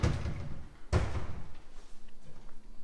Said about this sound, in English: There's slide doors on this one too.